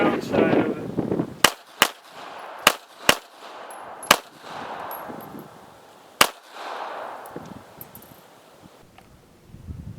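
Sharp, loud pistol shots from a Taurus Spectrum at an outdoor range, about seven reports in an uneven rapid string, with rustling and faint murmuring between them.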